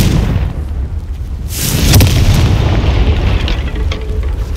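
A Confringo spell explodes in Hogwarts Legacy: a sudden loud blast about a third of the way in, followed by a long rumbling, crackling roar of debris and fire that slowly settles over a low background drone.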